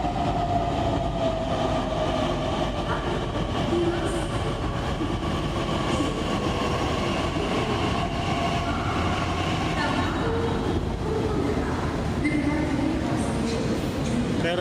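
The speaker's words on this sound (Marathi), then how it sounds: "ही आहे पुणे मेट्रो आली." A Pune Metro train pulls into a station with a steady, loud rumble of rail cars and a descending whine as it slows, while people talk throughout.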